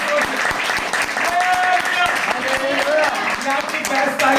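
A congregation at a baptism class claps loudly in a rapid, rhythmic patter that holds steady throughout, with voices calling out over the clapping.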